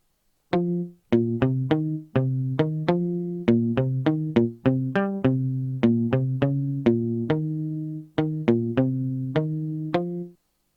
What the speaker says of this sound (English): I then added a muted guitar from Xenology, and it's following the same pattern as the bass.